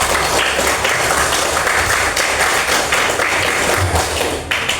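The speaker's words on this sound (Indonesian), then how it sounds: "Tepuk tangan untuk kalian semua." Students in a classroom clap together as a round of applause, a loud, dense, continuous wash of clapping that lasts throughout.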